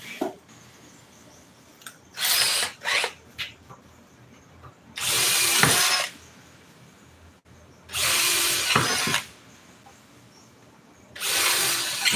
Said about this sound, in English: So I'm gonna take this, drill these holes on out.